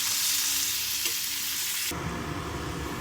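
Ingredients frying in a pan for a mint and coriander chutney, a dense continuous sizzle that drops to a lower, rougher frying hiss partway through, close and without talk.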